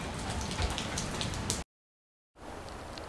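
Morning rain falls steadily in a dense, even patter at close range. The sound cuts to silence briefly midway, then resumes somewhat softer.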